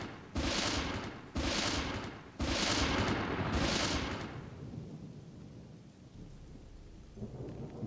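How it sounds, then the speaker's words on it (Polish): Thunder strikes called down by Beliar in a video game: four loud, sharp booming cracks in quick succession over steady rain-like noise, then a rumbling fade. "to by mnie Beliar przeczęstował piorunem"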